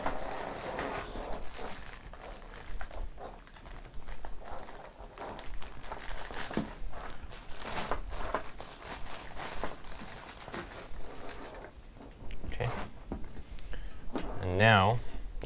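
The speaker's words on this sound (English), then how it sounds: "Let's go ahead and unwrap our camera." Plastic packaging crinkles and rustles continuously as an Aivico IB810HOV bullet security camera is unwrapped up close, with a few sharper crackles near the end.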